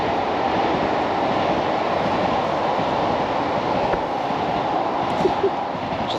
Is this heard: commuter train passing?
yes